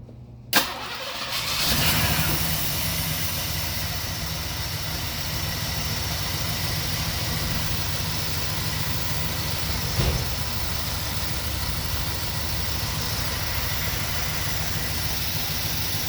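A KITT replica car with a smoking problem and a suspect hydraulic lifter cranks and catches after a brief start, then settles into a steady, low idle that runs on evenly for the rest of the clip.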